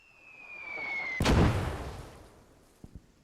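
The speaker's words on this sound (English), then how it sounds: "The mortar is doing the damage right now." Mortar fire in the World War II game Gates of Hell: a thin falling whistle ends in a loud, close, rumbling blast that fades slowly, followed by two small sharp pops.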